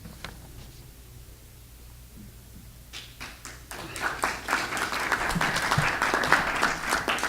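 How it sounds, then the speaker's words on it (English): After a few seconds of near-quiet room tone, an audience at a candidates forum breaks into applause that swells and keeps going, dense and fairly close. "That's the first applause I've gotten this entire process."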